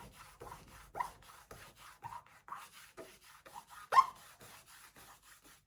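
Metallic leaf is rubbed off a crafted surface where no adhesive holds it, giving soft, close, intermittent scratchy rubbing strokes with brief brushing bursts and quiet gaps between them.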